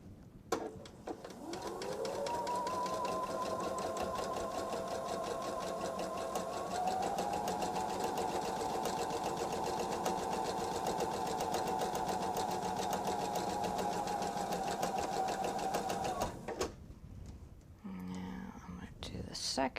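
Sewing machine stitching fabric coasters, starting on a scrap of starter fabric: a steady, near whirring hum that runs unbroken for about fifteen seconds, then stops, followed by brief soft handling noises.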